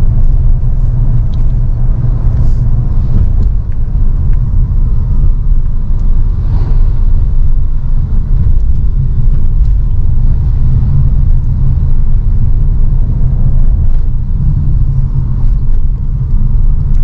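Steady low engine and road rumble inside a 2023 Toyota Yaris Cross GR Sport hybrid crossover on the move, a continuous droning hum with no talking.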